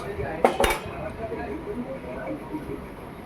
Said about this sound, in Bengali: এবার হচ্ছে মিষ্টিগুলোকে ঢেলে নেবো, কড়াটাকে নাবিয়ে নিচ্ছি